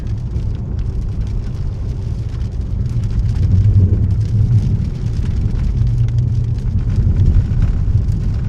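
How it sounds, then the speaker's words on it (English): A vehicle drives a gravel road through a heavy rain downpour during a Colorado storm chase, with steady dense rain drumming and low rumbling road and engine noise filling the whole stretch, swelling slightly louder midway. "So I'm okay driving through downpours of rain on this road."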